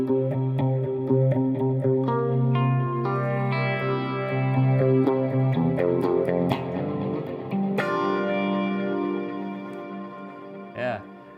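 An electric guitar run through an amplifier with a delay effect plays sustained notes and chords, each repeating and trailing off in echoes, with brief talk near the end.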